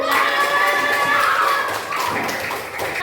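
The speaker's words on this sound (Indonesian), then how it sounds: "Tepuk tangan." A classroom of pupils claps in a brisk, busy burst at close range during a lesson on computational thinking, with faint voices mixed underneath.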